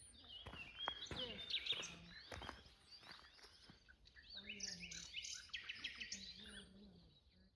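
Birds chirp and tweet in bright bursts along a quarried countryside hiking trail, some calls close and others farther off, with footsteps and brief movement sounds underneath.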